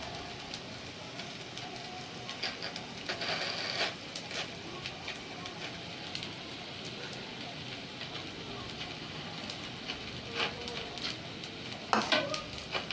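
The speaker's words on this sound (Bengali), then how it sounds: "সুজির লুচি দিয়ে দিলাম। কড়াটা গরম হয়ে এসছে।" Semolina luchi with potato filling fry in a hot pan on low gas, giving a continuous soft sizzle. Irregular stirring and scraping clatters rise above it, louder near the end.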